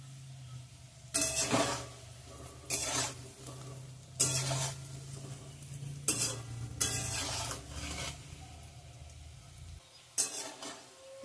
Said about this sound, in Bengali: কত সুন্দর করে লাল লাল করে পকোড়াগুলো ভাজা হচ্ছে